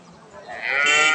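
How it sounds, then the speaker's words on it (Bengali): A Holstein Friesian dairy cow, sold at a cattle market as a 15-litre milker, gives a single loud, close moo that swells and holds to the end. "এটা 15 লিটার দুধের গরু"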